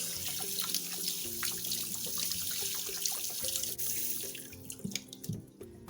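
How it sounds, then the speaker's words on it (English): Cassava roots being washed under a running tap in a sink, with a steady gush of water and scattered splashes and clatters throughout, easing off near the end. "go ahead and wash our cassava very well"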